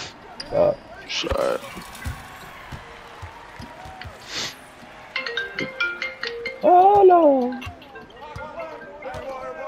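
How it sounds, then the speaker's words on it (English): A regular phone ringtone plays a short rising and falling melody amid a noisy gym with bouncing basketballs, crowd murmur and scattered voices. "They just got regular ringtones now, bro."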